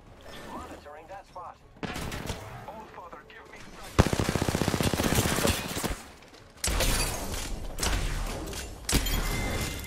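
Gunfire in the Apex Legends video game, including Kraber sniper rifle shots, with loud crackling bursts and rapid volleys that come in several waves across the clip.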